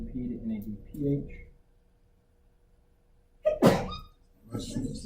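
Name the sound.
sneeze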